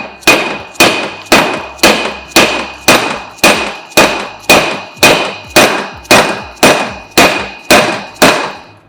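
Dead blow hammer striking a greased stainless steel exhaust part on a BMW E36 M3, fourteen evenly spaced, loud, close thuds with metallic ring, one roughly every 0.6 seconds with no talk.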